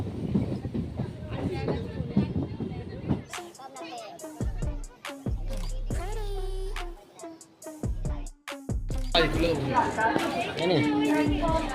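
A train and a crowd at Naihati railway station, with a rumbling, clattering train and murmuring chatter, broken by loud low horn-like blasts, with people talking nearby throughout.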